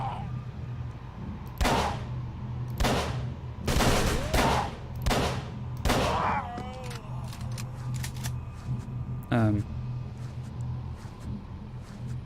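Several loud revolver gunshots in the Call of Cthulhu: Dark Corners of the Earth video game, fired at a slow, irregular pace with short echoing tails, followed by a metallic clicking rattle like a reload.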